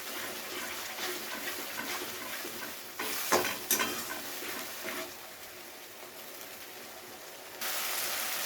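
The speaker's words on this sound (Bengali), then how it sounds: "টমেটোটাকেও সেমভাবে কিছুক্ষণ সমস্ত মশলার সাথে ভালো করে কষিয়ে নেব।" Tomato paste, ginger, garlic and spices cooking down in oil for a fish curry, a soft continuous sizzle with scraping stirs and a brief clatter midway, fairly quiet and without talk.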